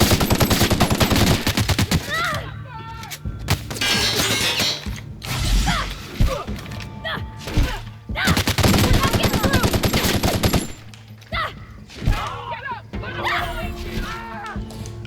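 Gunfire in the video game The Outer Worlds comes as loud bursts of rapid shots and mechanical clatter, packed into dense clusters with brief gaps, while a player talks over much of the action.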